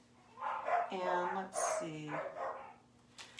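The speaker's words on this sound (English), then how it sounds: "Sorry about the barking." A dog barks a few times close by in short yips while a person talks over it.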